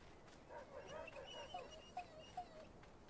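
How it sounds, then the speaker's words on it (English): Dogs in a video game bark and yip at a distance, faint and thin over a steady background hiss, with a couple of sharper yelps near the end. "Okay, that's just some dogs."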